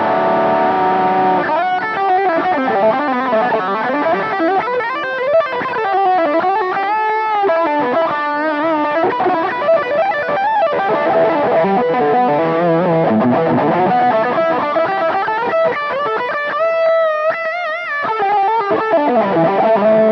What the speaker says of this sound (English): Here's a distortion tone with the bridge humbucker